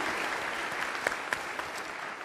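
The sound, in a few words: audience applause for ROTC reserve students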